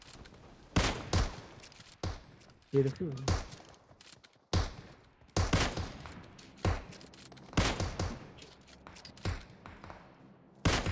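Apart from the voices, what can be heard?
gunfire in PUBG Mobile video game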